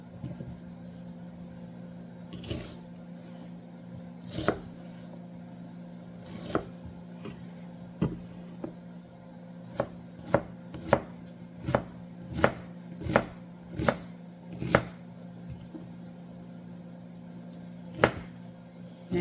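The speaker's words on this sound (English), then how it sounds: "And I'm just going to do a dice on this." A knife dices a vegetable on a cutting board for enchiladas, sharp close chops coming singly at first, then in a quicker run of evenly spaced strikes over a steady low kitchen hum, with no talk.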